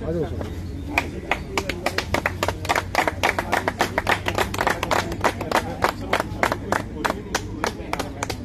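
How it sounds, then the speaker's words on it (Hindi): A crowd claps at a protest gathering of soldiers at Jantar Mantar in Delhi, steady rapid hand claps near and loud with voices talking underneath throughout. "तालियों की गड़गड़ाहट से आप सीधे तौर पर देख सकते हैं कि आज जंतर मंतर पूरा हुआ है।"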